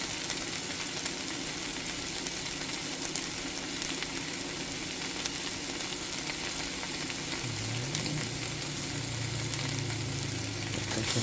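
Sliced bone-in Costco USDA Choice beef chuck short ribs (LA galbi) sizzle in a hot pan. The frying hiss is constant, close and even, and runs the whole time without any talking.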